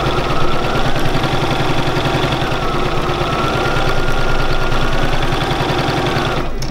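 A Bernina 475QE sewing machine runs close up while doing free machine embroidery, its needle hammering in a fast, even rhythm under a steady motor whir before it stops abruptly at the end.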